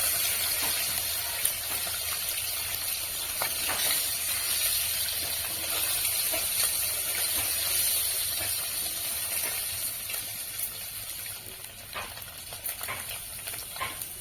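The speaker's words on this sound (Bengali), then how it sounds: "তেল দিয়ে দিচ্ছি এরপর হালকা আছে আমি ডিমগুলি ভেজে নেবো" Eggs frying in hot oil in a wok, a continuous close bright sizzle and hiss with faint crackles throughout, no voices.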